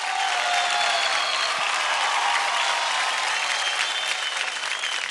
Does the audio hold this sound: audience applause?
yes